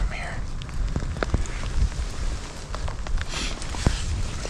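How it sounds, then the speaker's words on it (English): Rain falls outdoors on a windy hunting hillside, a soft steady patter with scattered sharper drops ticking close by. "It's still raining."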